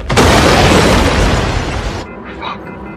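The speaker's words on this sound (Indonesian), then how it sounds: "sebuah ledakan besar pun akhirnya tiba-tiba terjadi" A huge, loud explosion bursts at the start and rumbles on for about two seconds, then cuts to quieter sounds.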